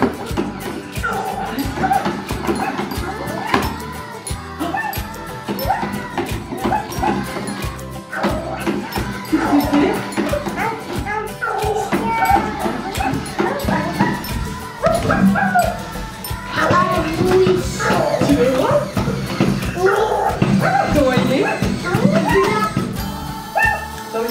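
A small dog barks and yips in short bursts against a dense, continuous backdrop of music and voices, fairly close.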